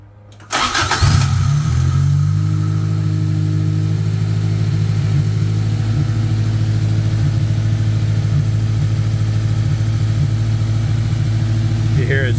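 A Toyota AE86 with a 4A-GE engine cranks and catches, then settles into a steady, loud high idle around 1500 rpm that runs on without change.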